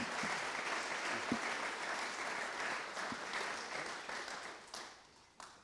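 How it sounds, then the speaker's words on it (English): A conference audience gives a round of applause after reports, many hands clapping in a dense, fairly quiet wash that holds steady and gradually thins toward the end. "perhaps a round of applause"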